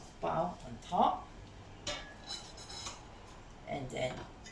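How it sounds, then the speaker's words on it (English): A steamer tray layer holding bao is set onto a Tefal Convenient Series VC1451 steamer, giving a few light clattering knocks of tray against pot, with a person talking over them. "Put the second layer of bao on top"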